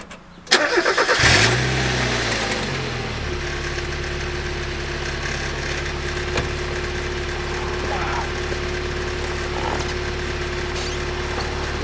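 A Mazda Miata turbo project car, grabber blue, fires up after a short crank with a sudden loud catch. It then settles into a steady, even idle that stays close and constant for the rest of the clip.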